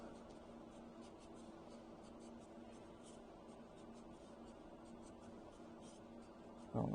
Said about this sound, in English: I draw this molecule.